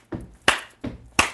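Audience clapping along to a protest-style song at an International Women's Day singalong, four sharp claps in an even, slightly loose rhythm, fairly close and alone without voices.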